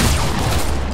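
In a video game, a gunshot lands a headshot in one loud, saturated burst of sustained booming noise that fills the whole short moment.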